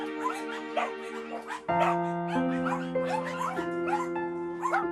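Very young puppies, three to four weeks old and not yet weaned, whimper and yip in a dim abandoned house, with high thin cries coming fast and overlapping, close and fairly loud, over a steady low hum.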